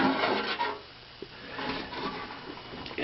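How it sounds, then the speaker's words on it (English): The cover of an 1898 Guttman type A recording wattmeter lifted off, a close scraping rub of the cover sliding free with a small knock, no voices. "I'm going to lift the cover off."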